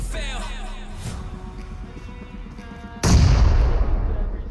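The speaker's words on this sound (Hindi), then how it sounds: "यहाँ सामने से मेरे पे एकेएम की फायरिंग होती है" AKM rifle fire in the mobile battle royale game BGMI comes as a burst of booming gunshots that starts partway through and stays loud, over layered game noise and a player talking.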